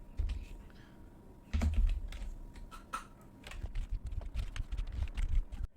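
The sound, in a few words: typing JavaScript code on a computer keyboard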